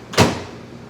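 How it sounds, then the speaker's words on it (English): A microwave oven gets loaded for making popcorn, with one short, close thump like its door shutting near the start, then quiet. "you're just gonna put it in the microwave"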